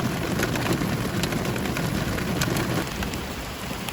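Heavy, loud rain from a thunderstorm in the Logar Valley, Slovenia, pours steadily with a rumbling low roar of thunder blended in, a continuous wash of storm noise.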